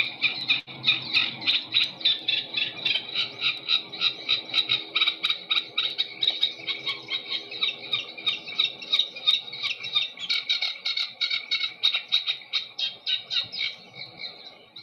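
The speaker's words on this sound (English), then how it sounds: "Someone's asked for the sedge warbler again." A sedge warbler sings continuously, a fast, chattering run of harsh, scratchy notes with a bouncy, rhythmic pulse, close and clear throughout.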